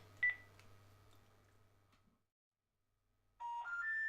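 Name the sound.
telephone number being dialed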